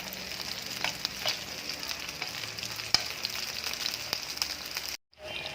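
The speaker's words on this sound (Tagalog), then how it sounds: "Ayan, sunod natin iprito itong talong." Eggplant frying in hot oil, a steady close sizzle with scattered pops and crackles running for about five seconds before cutting out abruptly near the end.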